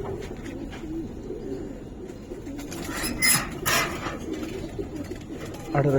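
Giribaz pigeons coo in a loft, a soft continuous murmur of low cooing from several birds close by, with a few brighter rustles and flaps over steady background noise.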